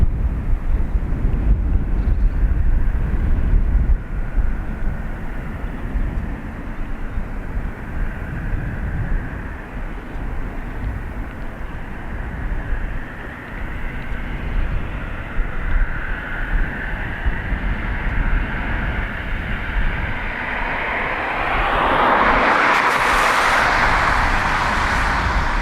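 Embraer business jet taking off at Dublin Airport, a steady distant roar and rumble that builds into a broad rushing swell near the end, heard alone without talk.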